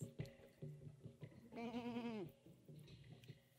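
A sheep in the video game Jazzpunk gives one wavering bleat lasting under a second, heard faintly over quiet background game sounds and soft clicks.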